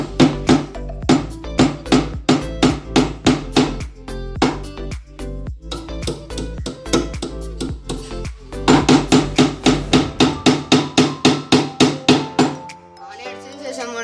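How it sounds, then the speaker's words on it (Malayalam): A nail being hammered while making a pen holder from a plastic bottle, a long series of sharp, loud, close metallic blows in quick rhythmic bursts, with brief pauses between runs. "നമ്മളിനി ഇവിടെ ജസ്റ്റ് ഒരു ആണി അടിച്ചു കൊടുക്കാൻ പോകണം"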